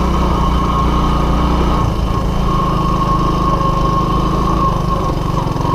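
A Honda ATC185S three-wheeler with a faulty shifting clutch is being ridden across grass in first gear. Its small single-cylinder engine drones loud and close throughout, with a slight shift in its note partway through.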